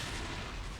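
Siege tanks fire in the video game StarCraft. The shelling is a dense, loud, continuous roar of heavy artillery-style blasts within a single brief burst.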